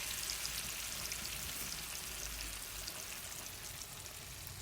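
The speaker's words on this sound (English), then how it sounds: "So I'm frying the salmon" Salmon fries in a hot pot with a steady, faint sizzle and crackle that holds evenly throughout, with no voices.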